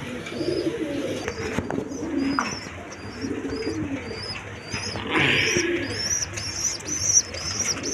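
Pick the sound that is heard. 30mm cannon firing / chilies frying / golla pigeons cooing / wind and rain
golla pigeons cooing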